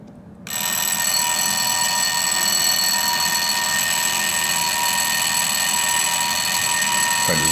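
An antique singing bird automaton alarm clock rings, a loud, steady alarm with a buzzy, high-pitched tone starting abruptly after a brief quiet moment and continuing unbroken, close and alone.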